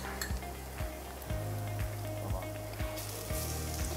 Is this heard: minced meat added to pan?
yes